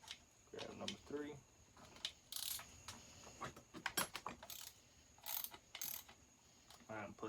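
A small socket wrench ratchets in short bursts of quick clicks while working on a McCulloch chainsaw, close and fairly quiet, with someone speaking between bursts.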